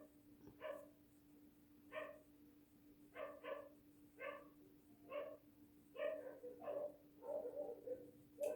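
Dogs bark at a distance in a steady series of single and doubled barks, faint and regularly spaced against a low background hum, with no talking.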